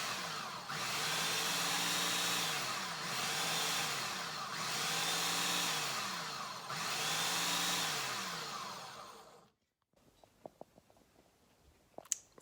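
A kitchen blender pulses chopped green tomatoes for relish in four loud, even whirring bursts, each rising and falling, then cuts out to near silence with a few faint clicks.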